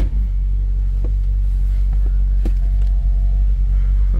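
A stock 2010 Chevrolet Camaro 2SS with its factory 6.2-liter V8 and no headers or intake mods idles nearby with a deep, steady rumble, with a few faint clicks over it.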